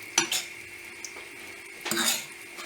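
A spoon stirring homemade pizza sauce in a pan, two short bursts of scraping and clinking against the metal with a quiet lull between them.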